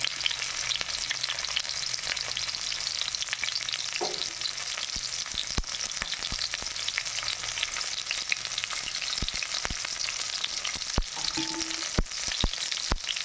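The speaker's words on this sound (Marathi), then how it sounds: "कांदा हिरवी मिर्ची फ्राई होता है" Chopped onion and green chilies fry steadily in oil in a pan, a continuous close crackling sizzle with a few brief clicks and stirring knocks, no voices.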